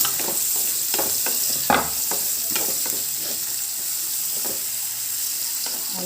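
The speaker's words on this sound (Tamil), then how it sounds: "இப்போ நம்ம வெங்காயத்தை அது கூட ஆட் பண்ணுறோம். வெங்காயத்தையும் நல்லா வதக்கணும்." Onions sizzle and fry in a pan with garlic for chicken chukka, a steady bright crackle broken by several sharp stirring scrapes, close and alone without talk.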